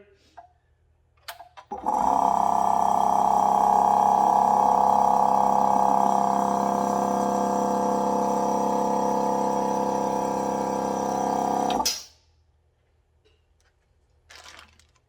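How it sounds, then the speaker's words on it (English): A loud Milwaukee M18 cordless air compressor runs steadily for about ten seconds with a constant droning hum, then cuts off abruptly into quiet. "Now on an air compressor, because of the way they work, they're actually louder from their intake"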